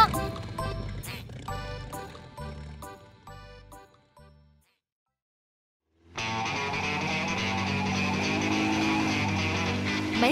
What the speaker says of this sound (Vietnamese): Cả một đàn mẹ con nhà vịt luôn.